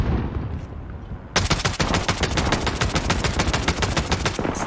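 A mounted gun in Call of Duty Modern Warfare Warzone fires one long, loud automatic burst, a rapid even chain of heavy shots that follows a brief quiet lead-in and runs to the end.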